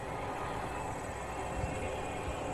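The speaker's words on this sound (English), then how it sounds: "It's that train again." A train passes nearby during an indoor interview, a loud, steady rumbling roar that fills the whole moment with no talk over it.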